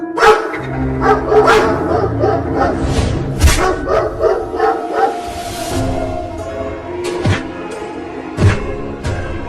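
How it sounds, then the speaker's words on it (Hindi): Several dogs bark and yap repeatedly in a noisy, overlapping clamor, close by, with occasional sharper yelps. "वो कुत्ते उस लकड़ी के घर के सामने भौंक रहे हैं"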